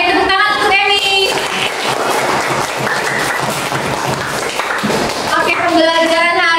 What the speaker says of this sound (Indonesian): tepuk tangan untuk Emi.